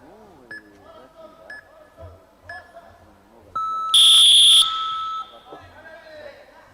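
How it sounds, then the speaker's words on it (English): The match timer at an AMMA youth championship bout sounds a single loud electronic beep lasting under a second, rising clearly above an ongoing commentator's voice and crowd noise. "So you'll hear the timer running in the background."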